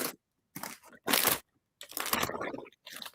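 Crunching bursts from someone chewing a cough drop close to the microphone, in several separate loud chomps with short silent gaps between them, heard alone and up close.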